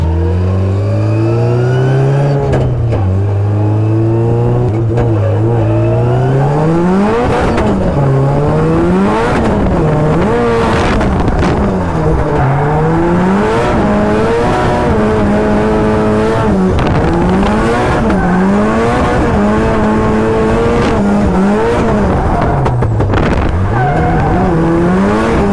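A 500BHP+ drift car revs hard through rising and falling engine sweeps, with tire squeal and skidding running under the loud, continuous engine note throughout.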